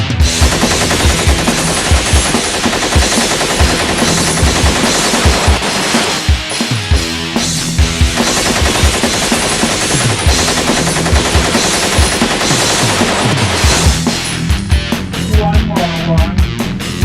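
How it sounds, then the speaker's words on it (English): Machine gun firing in long, rapid automatic bursts, loud and close, continuing almost without pause for the whole stretch with brief gaps between volleys. "Hey, that's not a gun. That's a machine gun."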